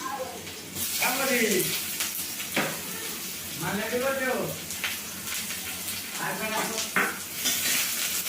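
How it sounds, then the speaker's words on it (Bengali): Garlic dropped into hot oil in a wok crackles and sizzles while a spatula stirs and scrapes against the pan, in bursts with short pauses, close up. "তেল গরম হয়ে গেছে, রসুন দিয়ে দিলাম।"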